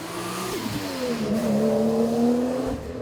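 A swapped car engine revs and climbs in pitch, holding a steady growl at close range without any talking.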